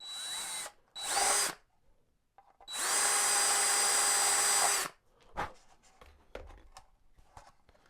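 A power drill whines in bursts boring a hole in a model biplane's cowl or wheel pants, two short runs then a longer steady spin, followed by scraping and handling noises close by.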